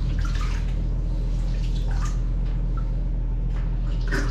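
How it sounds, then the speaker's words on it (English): Water drains steadily down the overflow of a bathroom vanity sink, a loud continuous gurgling rush with scattered splashy drips, heard up close with no talk. "As you can see, water's going down the overflow."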